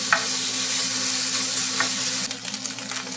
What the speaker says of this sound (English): we will start sauteing the bacon. Make sure your pan's hot and ready, and just fry it until it's crisp